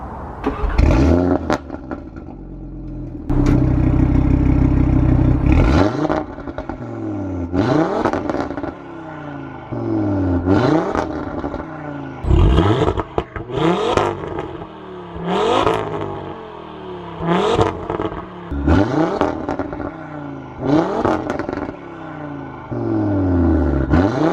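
A 2018 Audi RS3 (510 bhp) engine revved hard again and again, each sharp climb in pitch falling away with crackles and pops; loud and close, no voices.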